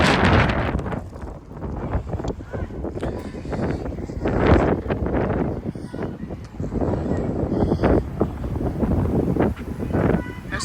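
Strong damaging gusts of around 50 mph tearing through a live oak in a front yard in Frisco, Texas, loud roaring surges and mic buffeting rising and falling, with a person talking between blasts.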